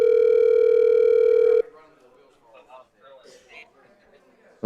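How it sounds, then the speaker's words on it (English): A loud, steady telephone dial tone drones for over a second while a call to a guest is placed, then cuts off and is followed by quiet talking. "let's dial up our special guest here"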